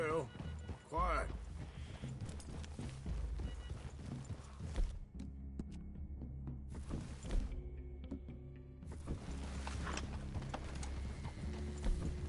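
Video game horses clop along at a walk on a forest trail, with steady hoofbeats and an occasional whinny, while characters talk over the movement throughout.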